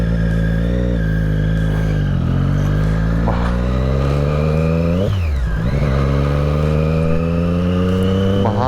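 A Triumph Daytona 675 with a 675 cc engine runs close and loud, holding a steady idle-like drone with pitch rising and falling through a couple of revs, the biggest dip and swoop near the middle.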